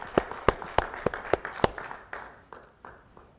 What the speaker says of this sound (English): let's give all of our graduates a wonderful round of applause